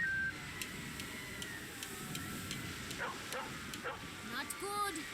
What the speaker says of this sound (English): Cane tapping, seeing eye dog.